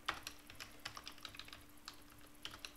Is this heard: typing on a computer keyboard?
yes